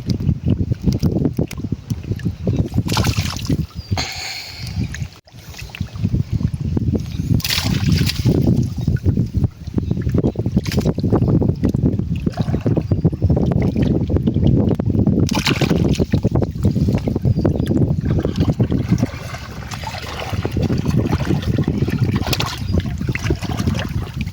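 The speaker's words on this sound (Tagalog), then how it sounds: "Sakyan na bangka." A small boat moves across water with steady sloshing and splashing, wind buffeting the microphone, and voices talking intermittently nearby.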